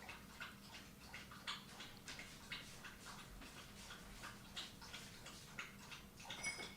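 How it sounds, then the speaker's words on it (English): Three dogs lap water in a quiet room, a faint, steady series of soft wet clicks and slurps repeating at a quick, even pace. "Oh yeah, drinking of the dogs."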